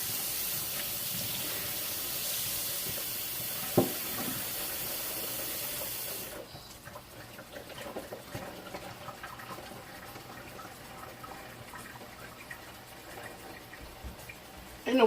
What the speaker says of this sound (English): I'm just going to fill it up with water.